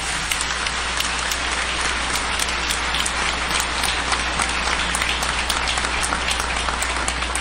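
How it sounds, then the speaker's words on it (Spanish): Congregation applause at an episcopal ordination ceremony in a diocese, sustained rain-like clapping from a large crowd, even and continuous throughout with a low steady hum beneath. "Aplauso para Monseñor Pablo."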